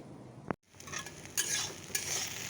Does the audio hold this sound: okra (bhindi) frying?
yes